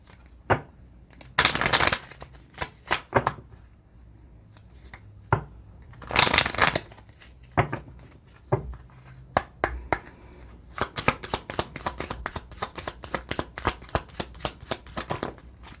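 Tarot cards are shuffled by hand in repeated bursts of riffling and sharp taps, close and crisp, with a quicker run of rapid slaps toward the end and no talking.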